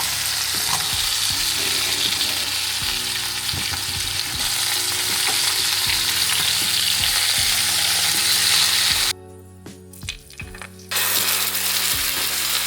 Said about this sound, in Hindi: मैंने आलू और गोभी को पहले फ्राई कर लिया